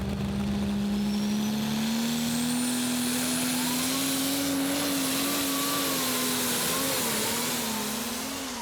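A prostock pulling tractor's engine roars loud and steady at a tractor pull in Herning, Denmark, its pitch climbing slowly as the throttle eases forward across the whole stretch.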